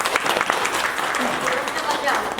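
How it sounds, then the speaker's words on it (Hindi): Brief clapping from wedding guests at a Hindu kanyadan ceremony, a scattered run of hand claps at moderate loudness over background murmur and music. "भैया के लिए छोटी सी ताली।"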